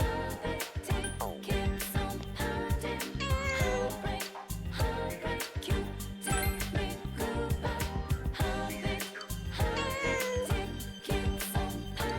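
A cat meows inside a video game, its cries mixed into a dense, continuous bed of game music and effects that runs throughout.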